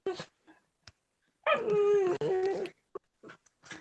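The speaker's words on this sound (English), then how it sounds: "Oh, it's my dogs." Dogs whimper and whine in short high-pitched bursts, with one longer wavering cry in the middle, heard close in an otherwise quiet room.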